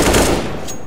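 Rapid gunfire from the CS:GO video game bursts loud and dense, a volley of close shots that quickly trails off into a lower rumble.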